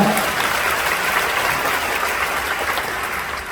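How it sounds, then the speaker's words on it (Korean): A congregation claps at a Korean Christian Liberation Day service. The applause is loud, continuous and steady throughout. "잘 살았으니까 박수 한번 합시다."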